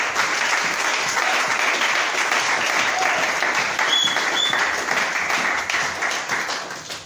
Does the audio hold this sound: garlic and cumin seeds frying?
no